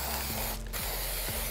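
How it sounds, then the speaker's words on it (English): Spray paint hissing from a shaken can onto a handmade vanity tray, a close continuous spray broken by one short pause in the middle. "spray paint."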